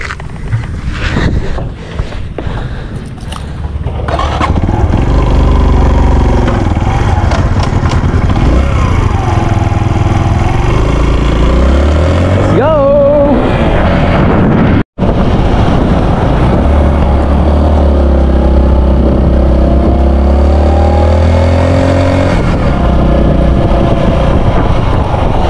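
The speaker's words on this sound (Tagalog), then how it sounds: "andito yung motor ni Roger." A motorcycle engine running loud and close, rising and falling in long revs with a brief dropout midway and steady rumble throughout; no clear speech.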